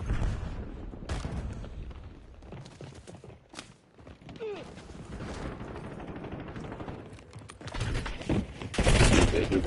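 Video game gunfire in a military shooter, with bursts of rapid shots and explosive fusillades that come and go before swelling loud at the end, mixed with someone talking.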